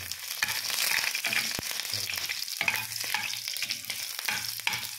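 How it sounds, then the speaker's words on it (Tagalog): Garlic fries in a pan for scrambled egg with malunggay, a close, steady sizzle broken by scraping stirs and clinks of a utensil against the pan. "Frying."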